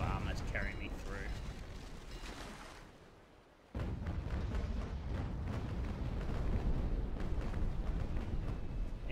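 Heavy naval guns boom and rumble in a ship battle video game, a dense roar of cannon fire that dips briefly into near quiet before the broadside explodes back loud and sustained.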